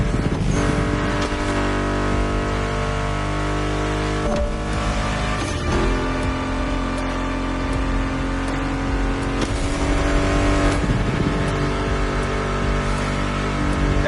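Racing car engines from The Crew Motorsports gameplay on PS5 drone and rev steadily beneath a loud music soundtrack, the engine tones blending into the music throughout.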